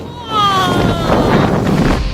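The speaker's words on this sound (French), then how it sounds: "Sous la force du vent, ce panneau publicitaire s'envole comme une feuille." Strong typhoon gusts roar past in a Shanghai street storm strong enough to tear up trees and fling signboards, a loud, close rush of wind buffeting the microphone, with a faint whistling tone.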